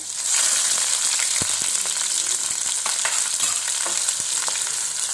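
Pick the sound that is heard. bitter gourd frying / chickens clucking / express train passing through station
bitter gourd frying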